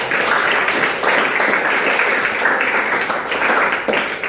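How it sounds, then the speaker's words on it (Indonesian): A classroom of students applauds together at the end of a lesson, dense clapping held steady and loud for several seconds. "mari kita kasih tepuk tangan untuk kita semua"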